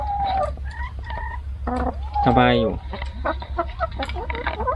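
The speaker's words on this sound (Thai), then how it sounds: "ไก่ก็จะอยู่กันแบบอย่างนี้" Chickens in a backyard coop cluck and call near the microphone, with one drawn-out call standing out midway, under a person talking throughout.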